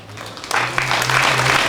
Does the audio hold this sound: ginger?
no